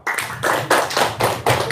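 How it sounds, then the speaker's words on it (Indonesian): Audience clapping hands at a live Indonesian stage show or game segment, heard as several loud bursts of claps in quick succession, close and without talk. "Tepuk tangan dulu dong"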